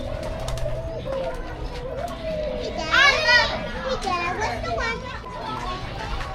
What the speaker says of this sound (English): We got doves, quail, pheasants.